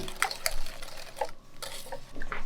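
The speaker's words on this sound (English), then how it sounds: "Let's give this a whisk" Egg and egg yolk whisked in a bowl in a small apartment kitchen, giving faint, light clinks and scraping against the bowl in a short, quiet stretch with nobody talking.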